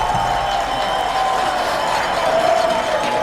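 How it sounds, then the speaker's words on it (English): A soccer stadium crowd at a lower-league club match lets out a sustained, broad groan of frustration, a dense steady roar of many voices filling the space throughout. "The crowd lets out their frustration there."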